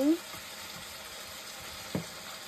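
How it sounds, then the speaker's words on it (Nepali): Dry beef, pre-boiled with salt and turmeric, goes into a hot frying pan with a steady low sizzle that runs through the whole stretch, with a soft clatter near the start and another near the end. "अनि अब मेरो बिफलाई म हाल्दैछु"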